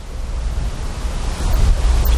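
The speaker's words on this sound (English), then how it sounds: "we're just in a windy phase." Strong wind blows against the microphone in a constant low rumble, gusting slightly louder toward the end, with no voices.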